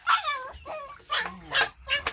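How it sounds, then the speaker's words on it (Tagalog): Several puppies bark, yip and whimper in quick, eager bursts, close by and fairly loud, with short pauses between the calls while they wait to be fed. "hindi na po makapagantay yung aking alagang mga aso, mga baby dog"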